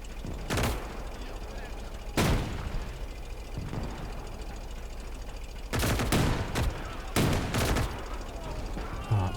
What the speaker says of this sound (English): Alright, that's the artillery done.